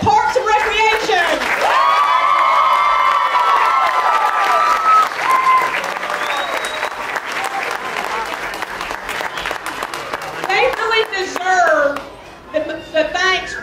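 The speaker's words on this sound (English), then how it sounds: "Let's give a big round of applause for all the people at Parks and Recreation." Crowd clapping and cheering at an outdoor Christmas lighting ceremony, steady loud applause with children's voices and whoops mixed in, fading toward the end as talk resumes.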